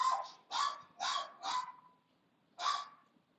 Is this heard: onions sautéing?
no